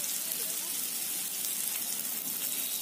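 Mushroom chili fries in a pan with a steady, even sizzle that hisses continuously without pause at moderate volume.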